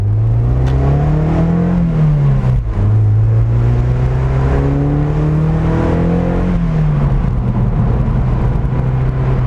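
A Mazda fitted with the BBR Super Sport upgrade revs loudly up close, its engine note climbing and dropping in smooth sweeps, then settling at a steady drone.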